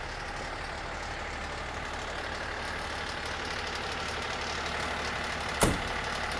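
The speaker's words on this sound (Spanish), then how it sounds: "Manejando el camión de la basura" A New York garbage truck's engine idles steadily, a constant low diesel rumble with a brief sharp knock near the end.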